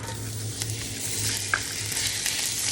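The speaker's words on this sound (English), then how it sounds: "You always want to hear that when you're putting something in your skillet" Steady crackling sizzle of a patty melt burger frying in a hot skillet, a constant hiss with small pops, heard up close and moderately quiet.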